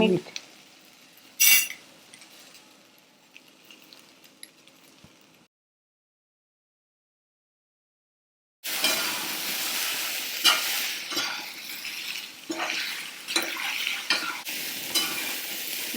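Fried green chilies and okra being stirred in a pan for a traditional fasting meal before yogurt goes in: scraping and stirring with a soft sizzle, a silent gap midway, then louder continuous frying and utensil clinks.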